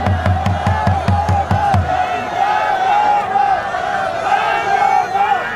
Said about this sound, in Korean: 우리 나경원 국회의원님께 다시 한번 힘찬 박수 부탁드리겠습니다